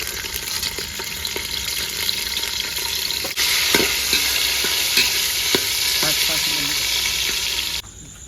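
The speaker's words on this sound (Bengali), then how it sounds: "কাজুগুলো ভেজে নেব কিশমিশটা দিয়ে দেবো কিশমিশটা ভেজে নেবো একসঙ্গে" Cashews and raisins fry in a pot over a village-style stove, giving a continuous loud sizzle broken by scraping stirring strokes that grows stronger midway and then cuts off abruptly.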